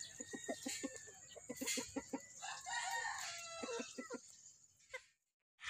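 Young gamefowl stags in a backyard pen crow hoarsely and cluck, a close series of raspy, broken crows with quick clucking pulses, ending in a brief silence.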